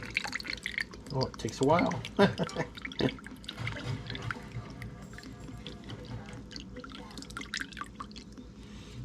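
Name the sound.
soy sauce and cooking wine dripping into measuring spoon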